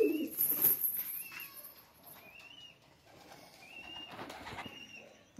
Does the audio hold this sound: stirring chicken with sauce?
no